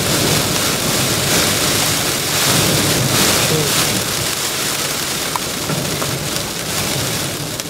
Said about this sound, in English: The rain is right there.